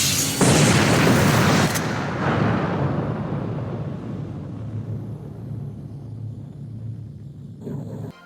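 A single massive video game explosion in the sky booms, then trails off into a long, rolling rumble that slowly fades over several seconds.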